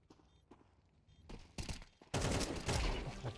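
Gunfire in Counter-Strike 2 starts as faint, scattered shots and builds to a loud, dense burst in the last second, with no voices.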